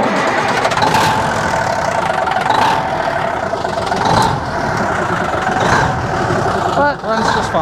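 A Jeep TJ that has sat unused for a while cranks and fires from the side with a faulty ignition switch, its engine churning loudly and steadily throughout with voices heard over it.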